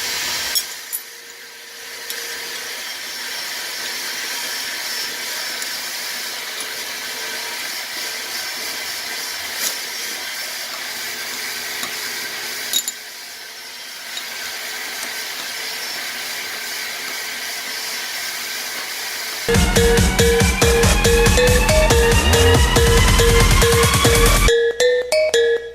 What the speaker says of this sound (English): I know you can't hear me because of the vacuum